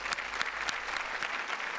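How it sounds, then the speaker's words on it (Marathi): A studio audience at a Marathi TV comedy show claps in a steady burst of applause, moderately distant and sustained for the whole moment. "एकदा जोरदार टाळ्या नंदेश दादा आणि उदेश दादासाठी झाल्या पाहिजेत."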